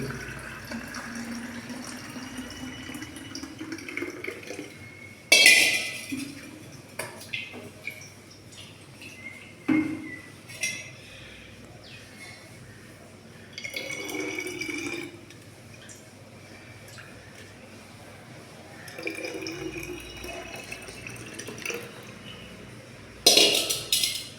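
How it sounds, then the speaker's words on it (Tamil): Homemade liquid fertilizer for flowering plants, sour-smelling, being poured into a bottle for storage, with intermittent splashing and pouring bursts, a few sharp clinks of the container, fairly close and moderate in level, with no talk. "பாட்டிலில் ஊற்றி சேமித்து வச்சிடுறோம்"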